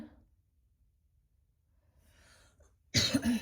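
A single loud cough bursts out near the end after a quiet stretch with faint rustling, close and abrupt.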